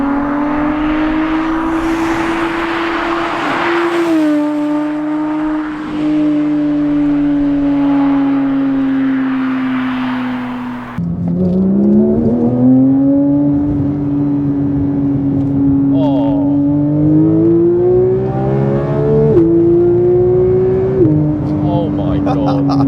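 Porsche 992 GT3 powering out of a corner, its high-revving engine wailing loud and steady with rising pitch sweeps as gears climb, voices talking over it.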